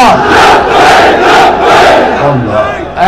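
A large crowd shouts the slogan al-Jihad in loud, rhythmic repeated bursts, a dense roar of many voices filling the space with steady pulsing chant.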